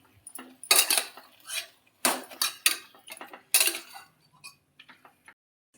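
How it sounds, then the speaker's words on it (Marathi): A spoon scraping and clinking against a metal pressure cooker while stirring chicken with turmeric and salt, in short bursts with quiet pauses between. "व्यवस्थित हलवून घ्यायचं"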